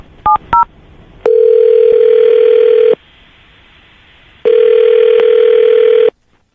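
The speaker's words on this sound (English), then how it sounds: "I'm going to dial her phone number right now, okay?" Touch-tone keypad beeps dial a phone number, followed by two long, loud bursts of a steady line tone separated by a pause, with no one speaking.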